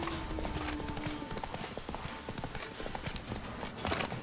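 Horse hooves drum steadily in The Witcher 3 as the horse gallops, a dense and continuous clatter over a wash of game ambience and music, with a faint whinny-like tone early on.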